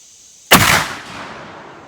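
A single loud, close shot from a 12 gauge shotgun firing a black powder reload, a sharp blast that decays into a short rumbling tail, alone with no talking.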